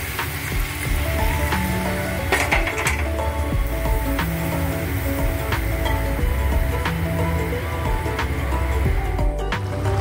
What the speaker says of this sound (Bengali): দেখুন আমার শুক্তো ফুটছে